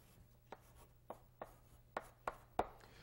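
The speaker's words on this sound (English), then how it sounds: "let me write this down here" Chalk or marker taps and strokes on a board during a physics lesson on vectors, six or seven short distinct knocks at uneven intervals, fairly faint over a low hum.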